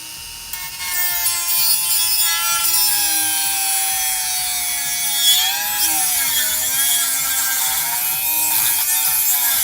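A Dremel rotary tool cuts a circle out of a 2013 Mustang GT decklid with a loud, constant high-pitched whine. The pitch wavers and dips as the cut goes on, with no talking over it.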